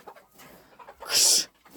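Soft, scattered clucking from chickens being shooed out of a backyard, broken by a loud hissing shush.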